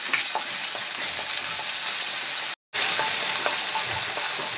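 Ginger garlic paste sizzling in a hot pan, a loud steady frying hiss with light stirring scrapes, briefly cut to silence midway before the sizzle resumes.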